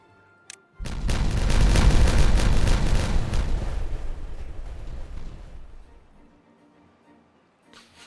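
A big in-game explosion in Timberborn booms loudly after a brief quiet, rumbling at full force for several seconds before tapering off, then near silence.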